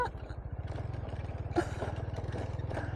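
Motorcycle engine on a ride through farm fields in southern Vietnam, a steady pulsing putter running throughout at close range, with a brief clatter partway through and faint background noise.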